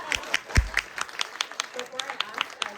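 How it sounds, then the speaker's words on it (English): A Q&A audience breaks into light, sparse clapping, individual claps spaced unevenly over a quiet room, with a brief thump early on and faint talk beneath. "Some people want to clap. I think you should clap."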